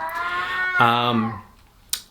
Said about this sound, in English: I'm just going to apologize if you hear my cat making sounds.